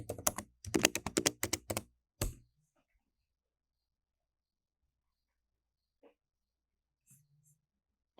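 Admin credentials are typed on a computer keyboard in a quick, close burst of keystrokes lasting about two seconds, followed by near silence with a few faint taps.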